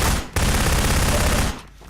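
Dense gunfire rattles at a shooting gallery in the video game Dissolution mod, a loud continuous burst of rapid shots lasting over a second, cut off by brief pauses at either end.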